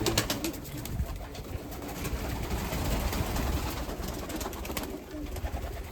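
Pigeons in a dovecote coo softly amid a steady rustling background, low murmuring calls repeating close by without clear breaks, no voices heard.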